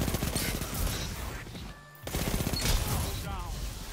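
Rapid submachine gun fire in a video game, dense continuous bursts with a short pause in the middle, loud and close, with talk from players mixed over the shooting.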